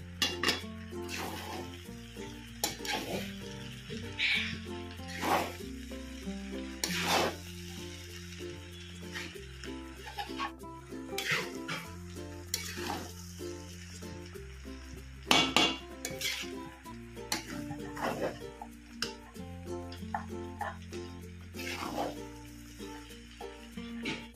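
A spoon scraping and clinking against a pan while stirring vegetable fried rice, with a soft sizzle underneath and irregular metallic knocks over a low background tune.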